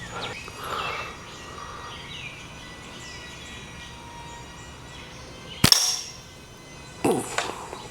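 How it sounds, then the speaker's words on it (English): A Snipersling slingshot fires a quarter-inch ball that smacks a pop can with a sharp crack, followed a moment later by a second rattling impact, over a quiet outdoor background. "Let's thwack on a pop can a little bit."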